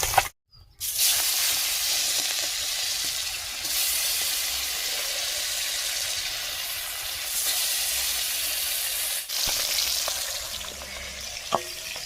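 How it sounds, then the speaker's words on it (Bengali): Fish frying in two woks over a stove, a long, steady hiss of sizzling oil with a brief dropout at the start and a few soft knocks near the end. "দুটো কড়াইতে মাছ ভাজা চলছে"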